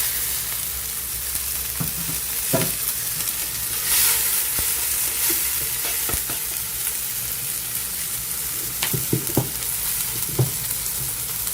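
Garlic and tomato sauté in a pan, a steady soft sizzle broken by occasional utensil taps and stirring clatters, close and moderately quiet.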